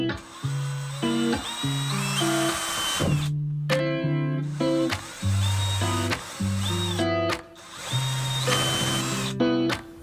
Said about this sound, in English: From drilling through the kill mat